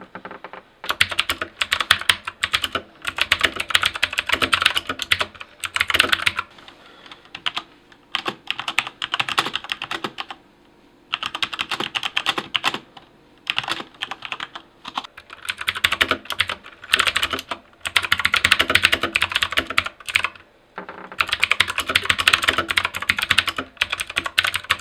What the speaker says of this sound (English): If you were wondering what both the keyboards sound like, and you probably were,